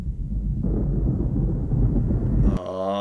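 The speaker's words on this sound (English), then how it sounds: "the only sound being the lightning in the nebula." Lightning rumbles in the nebula from the 1982 film Star Trek II: The Wrath of Khan, a deep, loud, continuous crackling roar. A brighter electronic tone cuts in near the end.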